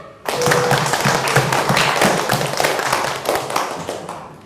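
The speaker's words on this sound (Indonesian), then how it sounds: "Kita berikan tepuk tangan untuk kita semuanya." A classroom of primary school pupils gives a round of applause, dense overlapping hand claps starting abruptly and sustaining loudly near and steady throughout.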